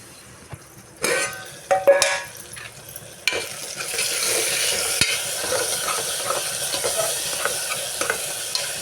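Ivy gourd curry with tomatoes, green chilies and coriander is stirred in a frying pan, with a few clattering scrapes of the spoon followed by a steady, close sizzle of frying that continues to the end, and no voices.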